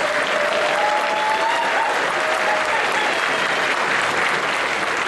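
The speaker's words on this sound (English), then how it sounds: "So, big round of applause for these two," A crowd at the Eurofurence pawpet show claps for two performers, a loud, even, sustained roar of applause with a faint voice or whistle-like tone drifting through it.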